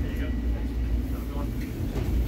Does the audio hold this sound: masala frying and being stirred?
no